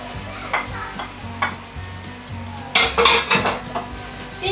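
A spoon stirs and scrapes through pineapple in thickening sweet-and-sour sauce as it sizzles and simmers in a pan, with clinks of utensil on metal over a steady low bubbling, close and alone.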